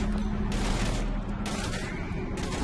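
Gunfire from the video game Mass Effect 3 rattles in rapid bursts amid a loud, dense battle din with low rumbling underneath, several volleys spaced across the moment.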